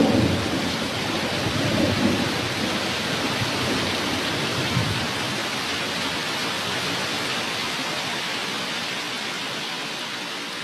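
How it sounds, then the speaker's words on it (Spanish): Dense, steady tropical rainfall in the wet season pours down with a deep rumble of thunder underneath, loudest at the start and then settling into an even roar. "Las lluvias son abundantes en esta región tropical durante los meses de la estación húmeda."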